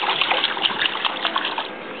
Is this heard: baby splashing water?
yes